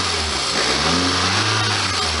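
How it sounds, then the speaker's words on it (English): A 1999 Toyota Celica ZZT231 fitted with a cold air intake pod filter revs up close by, a loud, steady engine drone that climbs and holds throughout with no talking. "let's rev it so you can hear it"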